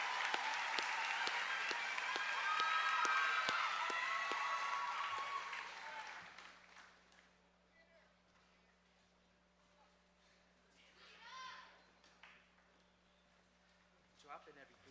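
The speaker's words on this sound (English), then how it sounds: "please welcome a round of applause" Audience clapping at the Westhill High School Class of 2024 graduation ceremony welcomes the senior class president, a fairly loud burst that fades after about six seconds, leaving quiet room tone with faint voices and stray sounds.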